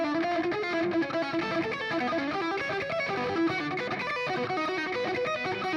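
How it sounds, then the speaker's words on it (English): Distorted electric guitar plays a fast shred arpeggio using string skipping, a continuous stream of bright, saturated notes with effects, loud and steady throughout without any voice. "this part is actually played with string skipping"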